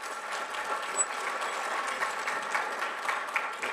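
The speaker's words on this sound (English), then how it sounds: "Everybody applaud this guy." An audience at a history symposium claps for a man who hauled a cannon, a steady, even patter of many hands lasting several seconds at moderate distance, with no talk over it.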